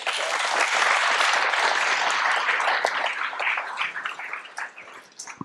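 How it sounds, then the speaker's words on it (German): An audience at a public health talk applauds: dense, loud clapping that holds steady for several seconds, then thins into scattered claps and fades out. "kleinen Beifall für Frau Dr. Müller."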